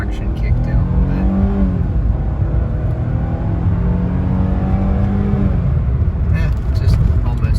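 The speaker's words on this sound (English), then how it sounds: "I can do a little bit of an acceleration run here, just for fun" A 2000 Mercedes CLK320 convertible under hard acceleration, a loud steady engine drone with rising pitch sweeps as it climbs through the gears, recorded from inside the cabin.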